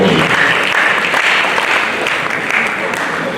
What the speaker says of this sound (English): Applause for Professor Int'L.